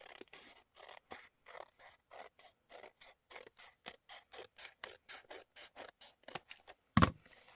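Scissors snip steadily along the glued edge of a paper envelope, a long run of evenly spaced, close rasping cuts, with one sharper, louder snap near the end and no talking.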